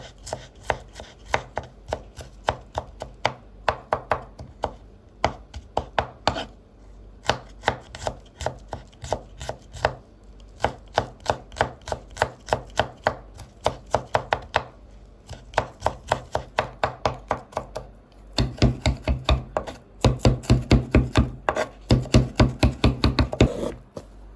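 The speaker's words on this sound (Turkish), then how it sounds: "Samsağı da bu şekilde ufak doğruyoruz." Rapid, steady knife taps on a cutting board as garlic is finely minced, continuous rhythmic chopping with brief pauses, growing heavier near the end.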